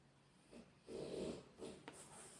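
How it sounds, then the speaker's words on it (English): A soft, snuffling snore from a nearby dog, a couple of breathy low rumbles with a brief snort, faint against a quiet room. "my dog just snored"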